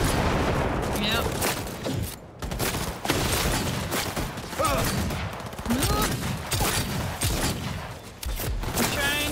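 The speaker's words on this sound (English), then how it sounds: "Trying to shoot these people." Sustained bursts of gunfire in the Cyberpunk 2077: Phantom Liberty shooter game, dense rapid shots and booming impacts filling the whole stretch, loud and close, with voices talking over the shooting.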